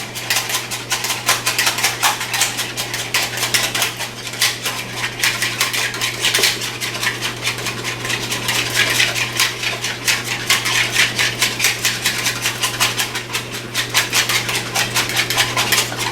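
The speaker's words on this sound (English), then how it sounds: "Get my handy little wire whisk and beat the hell out of it." A wire whisk beats an egg in a bowl, fast continuous rhythmic metallic ticking against the bowl sides, loud and close, keeping a steady pace throughout with a low hum underneath.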